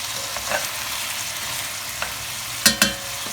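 Carrots stirred into a simmering Algerian tlitli sauce, with a steady, close frying hiss and a few soft stirring strokes, ending in two sharper clanks of the utensil against the pot.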